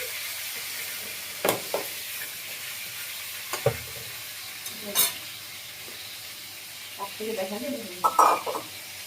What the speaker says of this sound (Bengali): এদিকে আমি বেগুনটাও ভেজে নিচ্ছি।